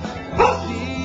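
A dog new to the household at a house in Pampanga gives a single short, sharp bark, close by and alone against a quiet background.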